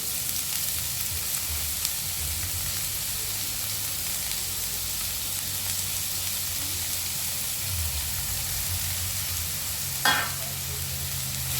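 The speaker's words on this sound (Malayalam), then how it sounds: "നമ്മൾ അരിഞ്ഞു വെച്ചിരിക്കുന്ന സവാള അതിലേക്കിടാം" Chopped onions sauté in hot oil with cumin in a pan for tomato kurma, a steady close sizzle and hiss that holds throughout, with a single brief clatter of stirring near the end and no talking.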